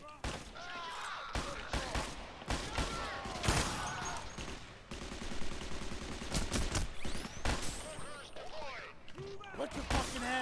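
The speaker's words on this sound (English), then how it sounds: "Is that a dozer with an LMG?" Bursts of light machine gun fire from a bulldozer enemy in a first-person shooter game, rapid overlapping rattling shots in irregular volleys amid other gunfire, with voices talking under the clatter.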